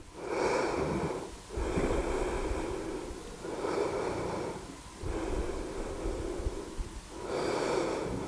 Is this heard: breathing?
yes